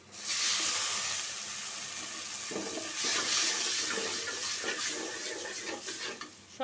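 Water poured into a cooking pot of salted onions and turmeric for a fish curry with Malabar spinach and katla fish: a steady, fairly loud rushing splash lasting several seconds, with faint clinks partway through and no voices.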